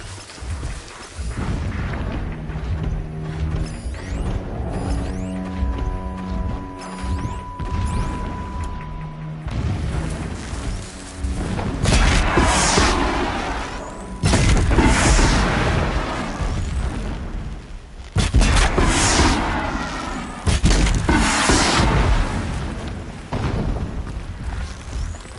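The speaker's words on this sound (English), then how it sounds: "Explosions in the distance." Explosions boom in the distance in a PS4 video game, several heavy rumbling bursts arriving in the second half, loud and broad, over quieter ambient noise and music-like tones earlier on.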